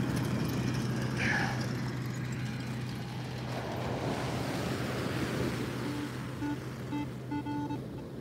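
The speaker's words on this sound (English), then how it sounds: "Come on, waves, get out of here." Ocean surf rolling onto the beach at Coney Island, a steady broad wash of breaking waves with wind noise across the microphone and a faint beeping tone near the end.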